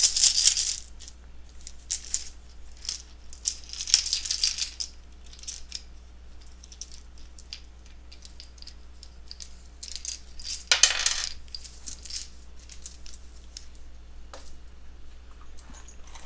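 Handfuls of small metal charms are shuffled for a card reading, producing bursts of clinking and jingling with scattered ticks in between, close and fairly quiet over a low steady hum.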